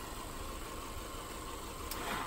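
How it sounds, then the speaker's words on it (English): Car engine idling after being started, a steady low rumbling hum throughout, fairly close and even, no talk. "You just need to get the ignition started."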